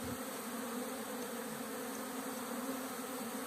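Honey bees buzzing at their hive in spring after syrup feeding and the first cleansing flight, a dense, steady hum that holds at an even level throughout with no voices.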